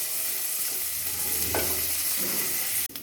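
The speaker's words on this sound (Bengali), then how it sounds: "মাছ ভেজে রাখা তেলে দিয়ে দিচ্ছি পেঁয়াজ। এখন বেশ ভালো করে ভেজে নেব।" Onions fry in oil left over from frying rohu fish, giving a continuous close sizzle with faint stirring scrapes and an abrupt cut near the end.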